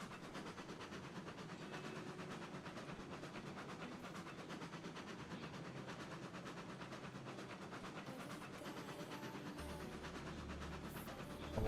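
A log train in the railroad game RailRoads Online, on the Pine Valley map, gives a faint, steady rolling clatter with a low engine rumble underneath. It runs evenly for about twelve seconds with little change.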